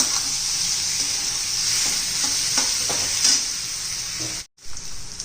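Masala stir-fried in oil for a hotel-style paneer masala, a steady close sizzle with scattered scraping clicks of stirring, broken by a brief cut near the end; no one speaks.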